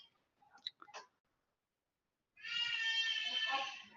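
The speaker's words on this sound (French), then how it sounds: "On entend surtout la petite qui pleure" An ill little girl cries in the background of a live online webinar. A few faint clicks are followed by a sustained, wavering wail that sounds distant and muffled.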